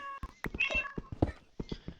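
A cat in the Minecraft video game gives a short, clear meow midway through, set among a few soft thumps and game sounds.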